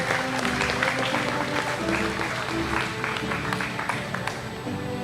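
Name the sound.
applause for graduates with honors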